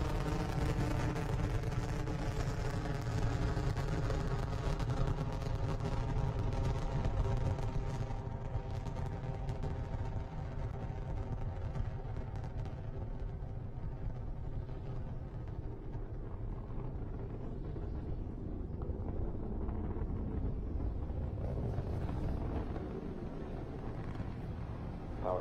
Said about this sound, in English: Liftoff of Falcon 9. Falcon 9 is cleared tower.